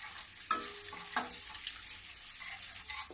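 Asafoetida roasting in a pan over a medium gas flame, a quiet steady sizzle with a few sharp stirring scrapes and clinks of a spoon against the metal pan, close by and without talk.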